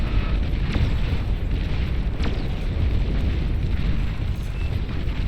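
Barrage of nuclear explosions in the strategy game Beyond All Reason, a continuous rumbling roar of blasts with a few sharper bursts cutting through, loud and dense from start to finish.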